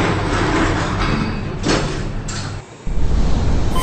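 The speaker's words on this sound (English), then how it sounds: "Door closing." Freight elevator doors in a Roblox game slide shut with a loud, sustained mechanical rumble and scrape that ends abruptly, followed by a steady hum.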